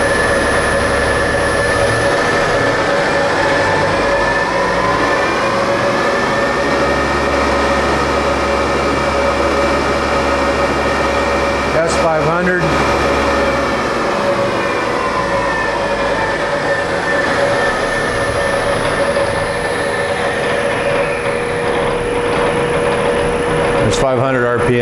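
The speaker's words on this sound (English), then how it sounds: "Let's do an S4200, which is a max speed." A Supermax CNC mill spindle driven by a VFD spins up toward maximum speed, a loud steady whine with rising tonal hum and rumble that holds throughout, with a brief disturbance midway.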